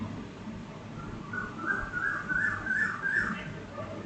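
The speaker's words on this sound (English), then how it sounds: "Well, finally the whistle had to be sounded." A referee's whistle in a football video game, a run of short shrill whistle blasts over steady crowd and commentary ambience, clear but not loud.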